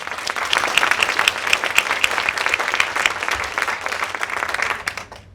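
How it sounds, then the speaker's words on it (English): Audience at a plenary session of an annual event in Cambodia gives a full round of applause, dense steady clapping from many hands lasting several seconds before tapering off at the end. "we do one more round of applause to all of you"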